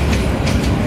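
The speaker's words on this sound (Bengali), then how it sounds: "এই যে আরেকটা ট্রেন ঢুকে গেছে মাত্র" A train rumbles loud and close past a railway crossing in Gazipur, a continuous heavy roll of wheels on track with a rhythmic clatter.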